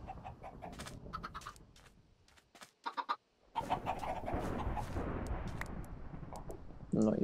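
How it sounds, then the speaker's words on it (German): Chickens clucking in a survival video game set in a forest, short bursts of clucks mixed with game noise and a brief loud thump, under someone speaking German. "Da kann man gleich mal die Hühner vermehren."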